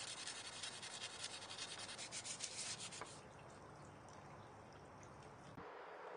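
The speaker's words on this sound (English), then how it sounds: "I washed and sanded the back wheels, now I'm doing the front." Sanding an oxidized aluminum car rim by hand, a rhythmic rasping scrub for about three seconds that then eases into a quieter, smoother rubbing, with no talking.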